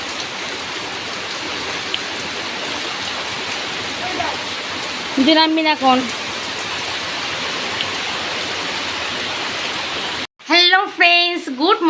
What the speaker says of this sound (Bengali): কি কালো মেঘ করেছিল ভালো বৃষ্টি হচ্ছে এই জলাশয় কি সুন্দর বৃষ্টি হেভি হেভি